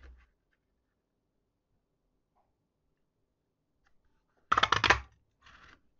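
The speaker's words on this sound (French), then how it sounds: "Et je vais ensuite prendre ma perforatrice 2 ovales pour venir le découper" A two-oval craft punch cuts through paper for a handmade card, giving one short, crisp crunching snap followed a moment later by a softer click, with near silence around them.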